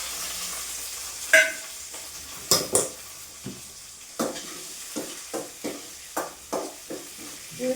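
Shallots, garlic and curry leaves fry in a pan for tempering, with a steady soft sizzle and a utensil scraping and clinking against the pan at irregular intervals, close by with no talking.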